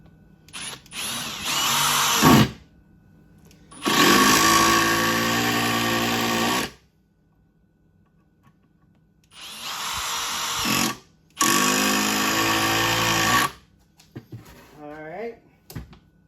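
A Milwaukee M18 Surge impact driver drives screws in two pairs of loud whirring bursts, each lasting a couple of seconds, with quiet pauses between them; someone briefly speaks at the end.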